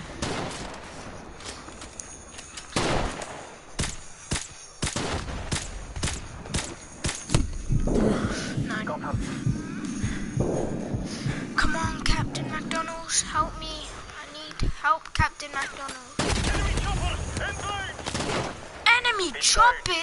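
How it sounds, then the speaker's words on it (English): AK-47 rifles fire in the Call of Duty Modern Warfare campaign, loud close bursts and scattered single shots breaking out repeatedly alongside other battle noise, with a voice talking at times. "Why so much people with AK-47s?"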